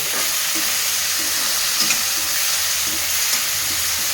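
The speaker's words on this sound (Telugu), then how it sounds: "ఎల్లిగడ్డలు ఫ్రై చేసాం" Thinly sliced garlic fries in hot oil in a pan, a loud, dense, even sizzle that runs unbroken from start to finish.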